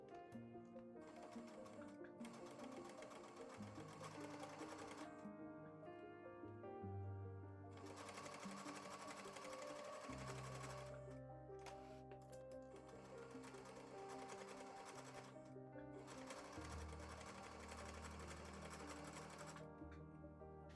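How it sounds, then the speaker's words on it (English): A sewing machine stitches four layers of fabric for a face mask with a nose piece, running in several long bursts with brief pauses between, a close, steady mechanical whirring and rapid clatter, no talk. "Next, sew."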